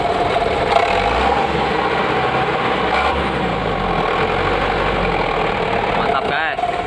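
Truck engine running loud and close through a homemade wolf-style exhaust built from scrap parts, a steady rough drone that barely changes over several seconds.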